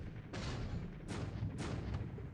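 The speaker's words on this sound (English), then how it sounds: "internal explosion" Internal explosions rock a warship in a Pacific War naval strategy game, a faint run of dull booming thuds in quick irregular succession, about three or four hits, with no voice.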